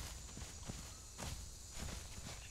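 Soft, irregular footsteps crunch over ground in the survival game The Isle, a handful of muffled thuds against a constant background hiss, fairly faint and unaccompanied by talk.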